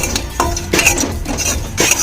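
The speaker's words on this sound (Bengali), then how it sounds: "কিছু জিরে দিয়ে দেবো আমি, শুকনো খোলাইটা ভেজে নেবো" Cumin seeds dry roasted in a pan, heard as close, loud scraping and stirring strokes with light metallic clinks in an uneven rhythm, no voices.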